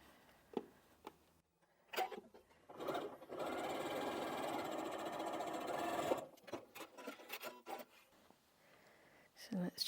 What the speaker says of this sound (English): we're going to sew on that line